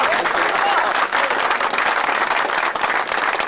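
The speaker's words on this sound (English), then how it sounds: "Let's have a round of applause for them." An audience at a Marine event claps and cheers in a loud, dense round of applause that holds steady, with crowd voices mixed into the clapping.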